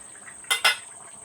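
Two quick metallic clinks of a utensil against a pot as fried fish roe goes into a simmering potato curry, brief and close, with quiet surroundings otherwise.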